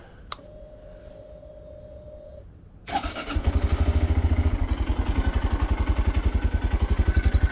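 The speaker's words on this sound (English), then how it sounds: "now we start the bike up" A Honda Grom motorcycle with a high-flow oil pump and stiffer clutch kit cranks briefly, then fires up into a loud, close, steady rhythmic idle with a brisk, even thump.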